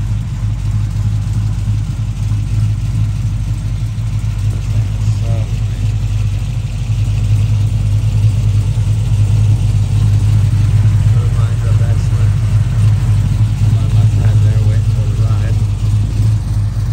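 1971 Restomod Chevelle convertible with an LSA supercharged engine, a loud deep idle that swells slightly as revs rise, steady throughout and close by, with a voice talking over it.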